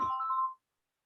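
A phone rings with an incoming call, a single short electronic ringtone tone that sounds clearly for about half a second and then cuts off into silence.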